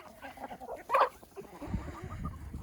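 Chickens and ducks on a small farm flock of about 80 birds, with a rooster giving one loud, close crow amid scattered clucks and soft fowl chatter.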